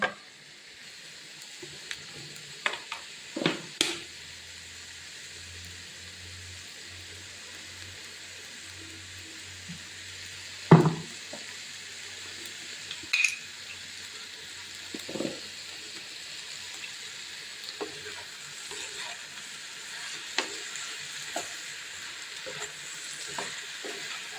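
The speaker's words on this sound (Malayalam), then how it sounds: "വെണ്ടയ്ക്കയും കൂടെ മെഴുക്ക് വരട്ടാൻ അങ്ങോട്ട് വെച്ചു" Okra stir-frying in a pan makes a soft, low sizzle that runs quietly throughout, with a few light clinks and scrapes of stirring.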